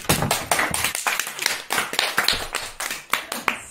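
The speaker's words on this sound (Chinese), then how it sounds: "掌声。" Clapping during a livestream, a run of quick, uneven hand claps close to the microphone, heard alone with no talking.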